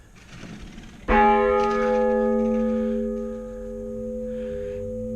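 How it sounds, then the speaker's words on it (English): A bell rung by pulling a hanging rope strikes once with a sharp, loud attack, then rings on in a long sustained tone that slowly fades, with faint shuffling noise before the strike. "That's the bell, obviously."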